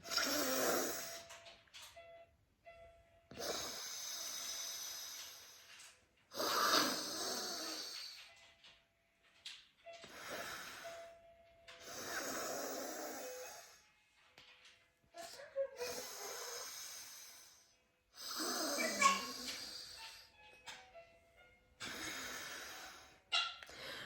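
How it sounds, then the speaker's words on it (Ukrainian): Forceful nasal breaths during an alternate-nostril breathing exercise, drawn in through the left nostril: about seven loud, close, rhythmic breaths with short pauses between them, snorting and airy in tone, and no talking. "Відкрили лівою стороною, починаємо дихати."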